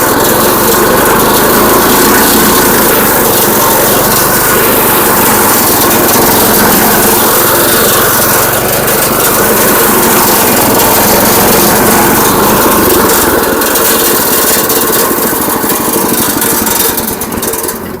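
A walk-behind lawn mower runs loud and steady at close range in a durian orchard, its engine droning continuously with slight throttle swells throughout, with no talking over it.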